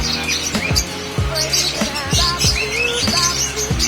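Many birds in an aviary chirp and tweet busily at once, overlapping calls close by, with repeated sharp clicks or taps sounding in a steady rhythm underneath.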